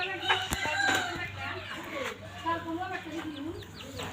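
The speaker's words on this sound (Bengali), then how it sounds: "দেখেন বিটল পোকা কীভাবে খায় দেশি মোরগে," Native rooster clucking while pecking at beetles, short clucks and calls scattered over a busy farmyard background, with other birds and a person's voice nearby.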